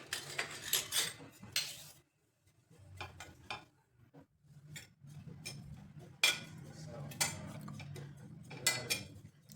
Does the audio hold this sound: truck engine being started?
no